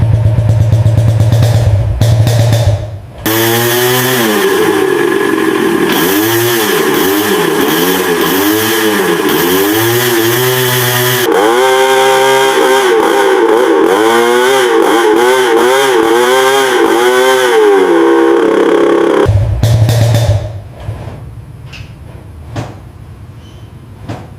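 A sputtering motorcycle engine idles and runs on a rural porch, loud and close, with a steady chugging rumble and wavering pitch for about sixteen seconds before cutting out to quiet.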